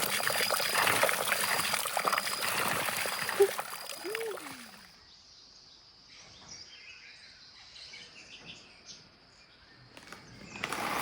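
Spring water pours and trickles steadily outdoors on a Nicaraguan coffee farm, loud at first, then dropping to a faint background trickle with birds and insects audible, before swelling again at the end.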